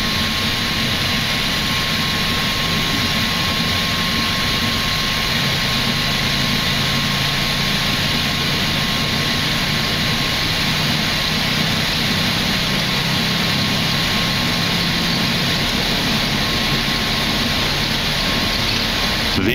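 Boeing 737 MAX jet engines at takeoff thrust during the runway roll on a Flair Airlines flight from Toronto, a loud, continuous roar with a steady high whine heard from inside the cabin, no talking.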